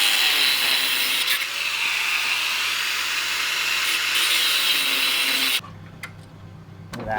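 A power tool grinds motorcycle nuts in a steady, loud, rough whine that runs for several seconds, then cuts off abruptly and leaves quieter background noise.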